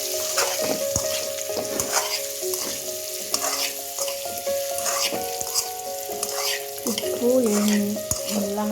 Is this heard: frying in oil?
yes